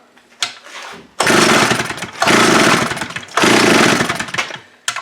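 A free secondhand chainsaw roars in three long loud bursts near the microphone, each one revved hard and then dropping back, with short quieter gaps between them.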